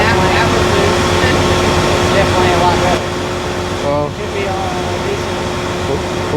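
Repaired cotton picker with a baler running close by, a loud steady mechanical drone with a constant tonal hum. The level drops slightly midway, and a voice speaks briefly over it.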